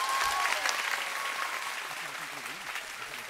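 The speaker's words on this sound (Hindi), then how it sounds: "जोरदार तालियां" Loud sustained applause from a large crowd at a Holi festival gathering at Shantikunj, a dense continuous clapping that slowly fades slightly toward the end.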